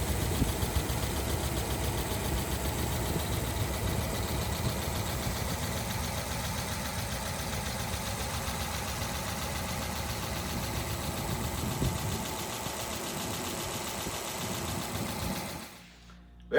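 A vintage flathead engine in a hot rod runs at a steady idle, with an even mechanical chatter that is fairly faint and continuous for about fifteen seconds before cutting off.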